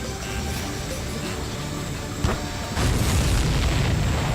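Heavy, sustained booms and rumbling explosions from the Ace Combat 7 flight combat video game fill the scene, a dense roar that swells louder partway through.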